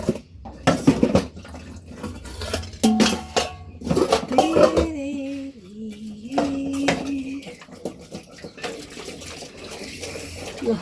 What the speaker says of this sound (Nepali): अब यो भाँडाकुँडा म आफैले धुनुपर्ने छ।